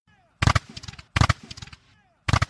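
Cannon fire from a 50-round flag salute at Fort Sumter, three loud booming blasts at irregular intervals, each trailing off in a short rumbling echo with quiet gaps between.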